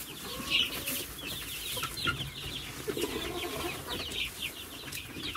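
Chickens in a henhouse cluck and squabble over a pie, with repeated overlapping clucks and short squawks at close range, occasional wing flaps and a busy, uneven rhythm.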